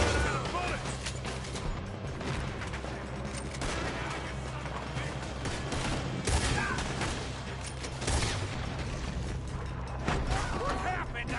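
A chaotic gunfight in Red Dead Redemption 2, with dense bursts of gunfire, crashes and mechanical clatter running nonstop over game music, while voices shout over the shooting.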